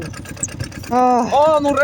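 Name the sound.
car engine revving at full throttle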